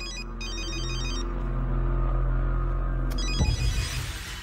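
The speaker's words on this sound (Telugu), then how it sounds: "అన్నా, ఫోన్ అన్నా." A telephone rings in a Telugu film scene, a loud electronic warbling ring in repeated bursts over a low hum, ending abruptly in a clatter of noise near the end.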